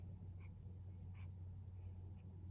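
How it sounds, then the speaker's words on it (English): A black permanent marker squeaks across paper while coloring in a small bat drawing, in a few short, separate strokes over a steady low hum. "I'm gonna color it black with the permanent marker"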